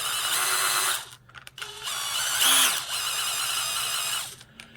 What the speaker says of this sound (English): probably because of the sound of the drill itself